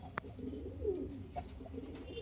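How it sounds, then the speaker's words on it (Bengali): A giribaz pigeon gives a short, soft throaty coo, faint and close in a quiet setting with no voices. "এই যে কবুতরটা"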